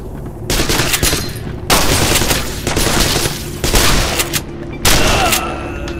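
Gunfire in the SAS: Secure Tomorrow PC game, loud repeated bursts of shots in several clusters separated by brief pauses, sharp and close with rolling echoes.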